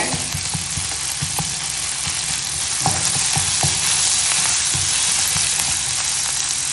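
Chillies, ginger and curry leaves sizzle steadily in hot oil, a dense close-up hiss broken by scattered crackles and small pops, with no talking.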